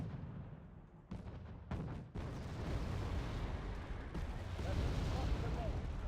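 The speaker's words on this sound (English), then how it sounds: "that artillery fire is unfortunately not going to land" Artillery barrage in the video game Wargame: AirLand Battle: a dense, continuous rumble of heavy booms and blasts that swells and rolls without pause, loud and close.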